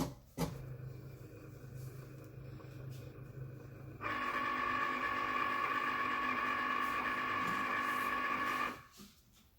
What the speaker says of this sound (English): plug in and power on your fabulous new Cricut machine